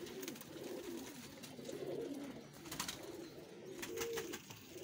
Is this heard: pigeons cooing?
yes